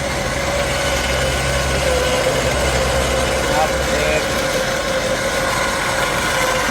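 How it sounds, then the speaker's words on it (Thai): Engine of a 2021 Mitsubishi Triton pickup running steadily close by with a constant low rumble and hum throughout, a voice speaking briefly over it. "เร่งเครื่องด้วยเร่งเครื่องด้วย"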